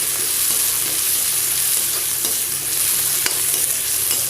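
Chopped onions frying in hot oil with cumin, a loud continuous close-up sizzle and crackle with an occasional stirring knock.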